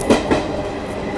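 The Garib Rath Express rolls along the rails between Chennai and Delhi, a loud, close rumble with two sharp clacks of the wheels near the start, then a steady roar.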